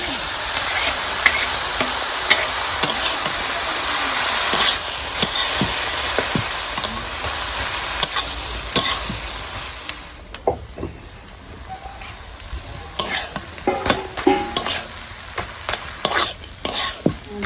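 Water spinach (kalmi shak) stir-fries in a pan in a village-style kitchen, a steady loud sizzle broken by repeated scraping stirs, easing briefly midway before the clattering stirring picks up again.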